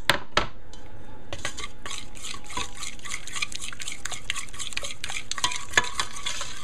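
Egg being stirred into a melted chocolate mixture in a pot for brownies, with a spoon clinking against the metal sides and repeated wet stirring strokes, close and clear.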